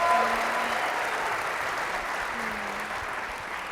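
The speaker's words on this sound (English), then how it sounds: "Let's give them a big round of applause." An audience at a live leadership panel event applauds, a sustained wash of clapping from a seated crowd that stays fairly even and slowly tapers over a few seconds.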